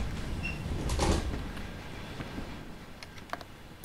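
A train door in Train Sim World 3 slides shut on an n-Wagen passenger coach at Bremen-Oldenburg, with a soft thud and rattle followed by faint clicks in a quiet interior.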